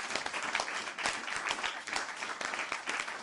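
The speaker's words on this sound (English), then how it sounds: "let's give everyone on the panel a hand clap" An audience applauds a panel of music business executives, a dense, steady patter of many hands clapping for a few seconds without speech over it.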